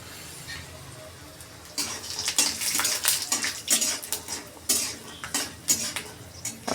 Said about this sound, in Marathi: त्यातच आपल्याला थोडे शेंगदाणे हे चांगले भाजून घ्यायचे आहेत.